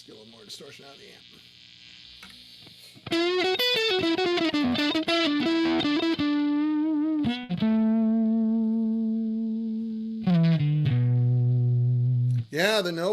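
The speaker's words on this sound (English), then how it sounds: "Let's get a little more distortion out of the amp." An electric guitar plays through an overdriven amp with heavy distortion, cutting from quiet picking into loud, buzzing sustained notes and chords. A person talks briefly near the start.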